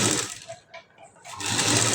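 A sewing machine stitches the hem of a plain blouse in two loud bursts of rapid whirring, close by, pausing briefly in the middle.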